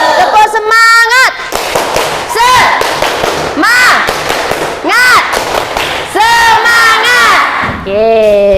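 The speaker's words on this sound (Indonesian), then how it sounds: "Tepuk semangat." Children shout a spirited group chant together, loud and close, in a burst of high excited voices that stop and then return for a final cry. Adults speak around the chant.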